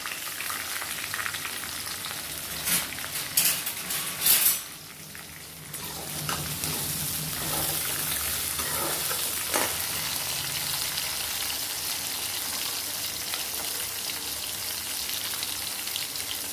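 Hot oil sizzles and crackles as small onions and curry leaves are tempered for a Tirunelveli-style fish curry, a brief loud spatter early on, then a steady frying hiss close by.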